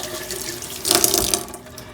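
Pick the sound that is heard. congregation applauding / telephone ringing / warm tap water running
warm tap water running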